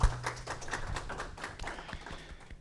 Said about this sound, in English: Please give a round of applause for Representative Humphrey